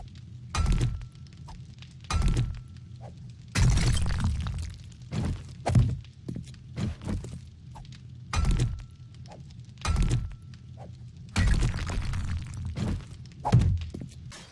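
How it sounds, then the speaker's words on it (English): A nail gun firing in the survival video game 7 Days to Die, a series of sharp, loud thunking shots with one burst lasting longer than the rest, spaced irregularly, heard without any talking. "Nail gun."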